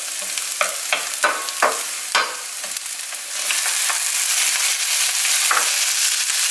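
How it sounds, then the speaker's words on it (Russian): Garlic and bell pepper frying together in a pan, with loud steady sizzling and a run of sharp scraping stir strokes early on that give way to a denser, continuous hiss. "Теперь обжариваем все вместе, пока перчик немножко не схватится."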